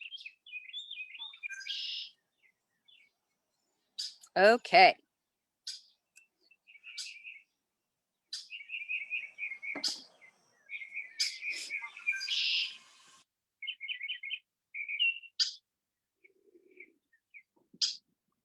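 Small birds chirp and tweet outdoors in the morning in repeated short bursts of varied calls, fairly close and clear against a quiet background, with one brief spoken word.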